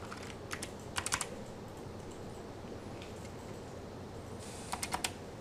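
Keys clack on a computer keyboard in two quick clusters of sharp taps, a few strokes early and another burst near the end, faint against a steady room hiss, no voices.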